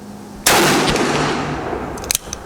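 A single sharp, loud gunshot from a Ruger Super Blackhawk .44 Magnum revolver cracks outdoors, followed by a long decaying boom and echo, then faint small clicks.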